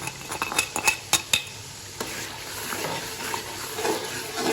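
Spices roasting and being stirred in a pan for dhaba-style masala dahi bhindi, opening with several sharp spoon clinks and scrapes against the metal, then settling into a softer, steady sizzle with occasional stirring.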